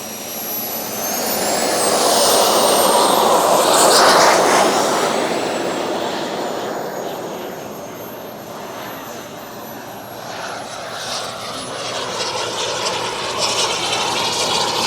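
Giant 3.4 m Viper Jet radio-controlled model flying overhead, its turbine engine roaring with a loud, broad whoosh and a high whine that swells and fades as it passes, then builds again.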